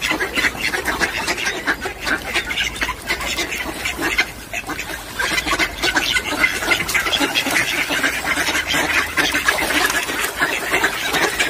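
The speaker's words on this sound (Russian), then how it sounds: "утки" Many ducks quack loudly and continuously on a winter walk where bread is being put out for them, a dense overlapping chorus close by with no talk over it.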